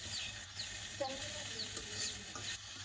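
A spatula scrapes and stirs okra fry in a pan over a soft, steady sizzle, with faint bird chirps in the background.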